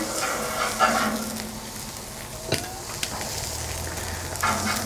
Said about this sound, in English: We're just gonna let the steak cook a tad more